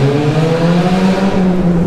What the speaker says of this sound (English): Neutral rev, and then we gotta do a lift and just let it pop